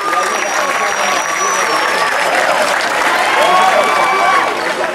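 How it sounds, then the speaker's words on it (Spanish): Audience at a national school arts festival applauding a modern and contemporary dance performance by the Arequipa region, sustained dense clapping with crowd murmur and a few shouts, loud and steady throughout. "Vamos a brindarle un cálido aplauso a la región Arequipa."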